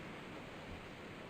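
Water rushes over a dam in the Trainz Simulator 2 railway game, a faint but steady broadband hiss-like roar that continues evenly with no other sounds on top.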